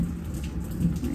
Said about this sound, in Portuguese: Mas a chuva tá molhando aqui, né?